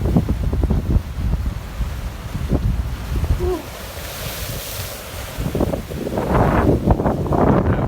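Storm wind and surf along a jetty during a powerful late-season nor'easter-type front, steady roaring gusts with crashing water swelling louder toward the end, no talk.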